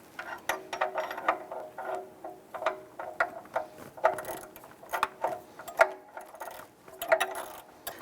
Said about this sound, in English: Let's go ahead and put our ratchet and socket on there and tighten that down.